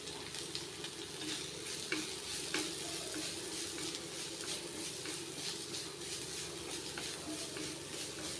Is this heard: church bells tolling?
no